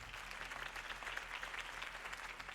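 Crowd applause in the Telltale's Batman video game, a steady wash of clapping that holds at an even level throughout, with low droning hum underneath.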